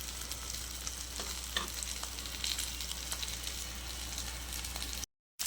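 Leftover chapati fries in ghee on a pan over low heat, giving a steady, close sizzle that continues throughout with small crackles and a faint stirring sound.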